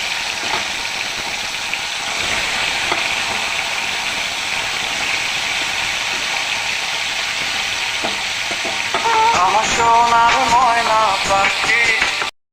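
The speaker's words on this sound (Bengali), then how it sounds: "আলু আর ফুলকপি একসঙ্গেই ভেজে নিচ্ছি" Cauliflower and potato pieces fry together in hot oil in a pan, a steady close hiss and crackle that grows louder and busier toward the end with stirring scrapes, then stops abruptly.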